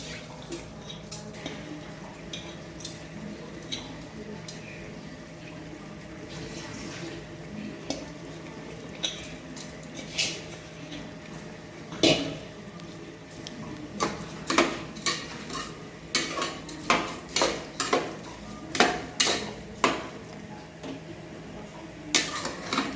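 Washed rice and vegetables are fried and stirred in a pressure cooker for a spiced vegetable pulao, with a spoon repeatedly clinking and scraping against the metal pot. The knocks grow sharper and more frequent toward the end over a low kitchen background.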